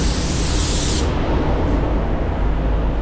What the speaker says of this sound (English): Getting the spray out, spraying them all at the same time.